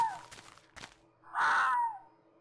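A fox in the Minecraft video game lets out a harsh, unearthly chirping cry, one loud burst of about a second after a few short quieter sounds.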